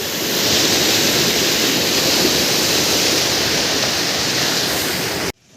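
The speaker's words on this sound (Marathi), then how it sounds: "बघलास ना आमच्या ह्या नदीचा पाणी आमच्या सगळ्या मळ्यात भरलेला" River water floods across village fields and ponds in rural Konkan, a loud, steady rushing wash of flowing water heard alone, broken only by a sudden cut at the end.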